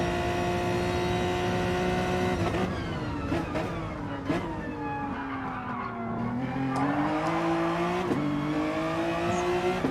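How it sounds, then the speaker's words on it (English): Race car engine in a sim racing game, loud and continuous, revving up and down through gear changes as it rounds a corner, with a touch of tire squeal. "As you see, Dasun nicely getting around that corner, car running a little wide"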